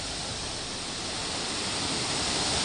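Water pouring at Burude waterfall, a dense unbroken roar of rushing water filling the whole range, steady and close with no voices.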